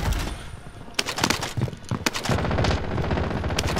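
Rapid gunfire in Call of Duty: Modern Warfare, a loud burst of automatic shots followed by sharp cracks, close and dense, with battle noise continuing throughout.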